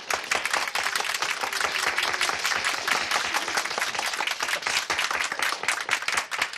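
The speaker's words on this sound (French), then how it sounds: "Applaudissez bien fort." Dense, steady clapping from an audience at a French-dubbed screening or show of the 1971 film Les Gentilshommes de la chance, with many sharp hand claps blending into loud, continuous applause with no talk over it.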